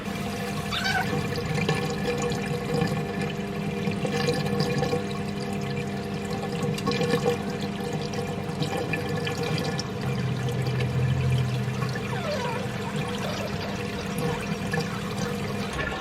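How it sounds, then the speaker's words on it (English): Homemade siphon pump drawing water out of a turtle tank, a steady close-up gurgling and rushing of water that runs continuously with a brief louder bubbling surge partway through. "the test with this siphon pump"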